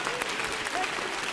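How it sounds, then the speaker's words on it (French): An audience claps steadily at a 25th-anniversary school charity event, a dense wash of hands filling the room briefly at moderate distance. "Vous pouvez les applaudir."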